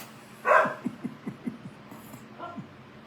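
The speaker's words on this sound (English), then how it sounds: "Anybody want a dog?" A dog gives one sharp bark and then a run of short, soft yips or whimpers, with a second bark near the end, all fairly close but moderately quiet.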